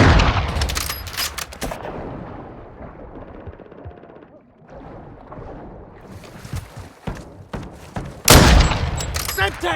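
Heavy gunfire in Call of Duty Modern Warfare 2, with loud cracking shots clustered at the start and a sharp burst near the end, over continuous battle noise and in-game voice chatter.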